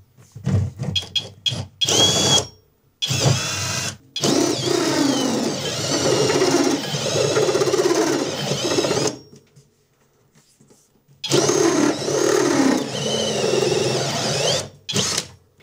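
A power drill fitted with a step drill bores a hole, whirring loudly in long sustained bursts with short pauses and a quiet stretch between runs.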